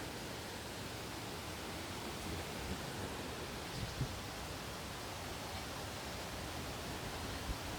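Sawatkada waterfall in the Konkan region pours steadily, a dense, even roar of falling water that fills the scene without pause, close and constant, with only faint bumps and no voices.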